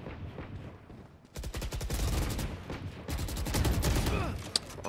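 Rapid gunfire bursts from the video game Valorant, loud and close, with dense repeated shots from about 1.3 seconds onward and a brief lull near three seconds.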